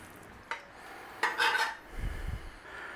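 A pan is grabbed and handled in a home kitchen while cooking sweet and sour paneer: a light knock, then a bright metallic clatter and scrape, followed by a dull low thump as it is set down.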